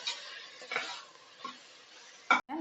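Onions and tomatoes sautéing in a pan for chicken biryani give a soft, steady sizzle with a few scrapes of stirring and one sharp clatter near the end, heard close with no talking.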